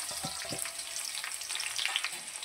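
Onions sizzle in hot oil in a pan, a dense, close crackling hiss with small pops and a little stirring throughout, fairly quiet, with no one speaking.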